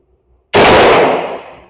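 A single sharp gunshot cracks close by at an outdoor shooting range and rings off over about a second after a quiet start.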